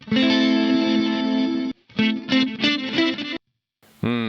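Electric guitar played through an Axe-Fx III multi-delay block set as a ramp-up reverb: a long sustained chord, then a run of shorter picked notes with swelling, delay-like repeats, a silent gap, and a final struck note.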